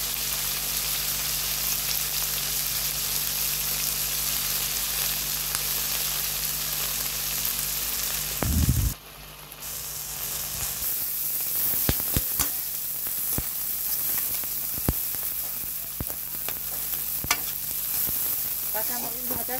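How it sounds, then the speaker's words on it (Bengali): Green chillies and chopped onions frying and being stirred in a pan, a steady loud sizzle and hiss with scraping stir noises, a brief pause in the middle, then crackling spatters. "এখন হচ্ছে কাঁচা মরিচ এবং পেঁয়াজ আমরা একটু ভেজে নিচ্ছি"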